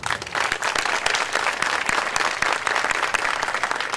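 An indoor audience at a city State of the City address applauds city council members with steady, dense clapping throughout, loud and continuous.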